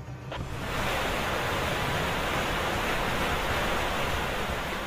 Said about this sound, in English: water is coming